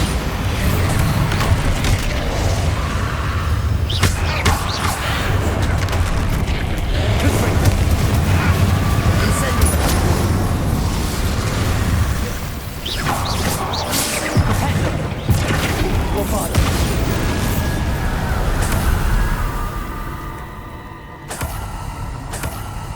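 Bombarda spell explosions in Hogwarts Legacy: repeated heavy booms and crashes over a dense, rumbling battle din lasting throughout, loud and close.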